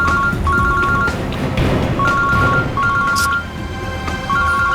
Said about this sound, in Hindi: श्रेया की मां का फोन।